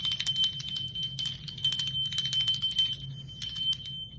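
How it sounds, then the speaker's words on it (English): A small hand bell rung repeatedly in quick bursts, bright clear ringing tones that stop and start in several clusters, close and fairly loud with no talk. "Let's ring the bell."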